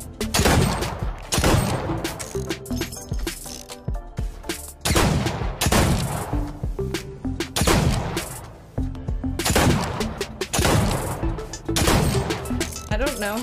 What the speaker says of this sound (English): he gets headshots like every time with a pistol